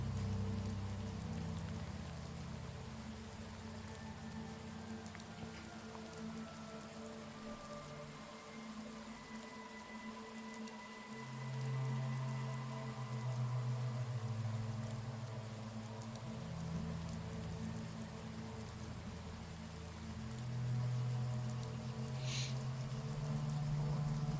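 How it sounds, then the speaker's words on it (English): Steady rain pattering on surfaces in the Skyrim game world, a continuous soft hiss of falling drops with a low rumbling undertone, at an even level throughout with no talking. "I really do like the effects of the rain falling on the screen."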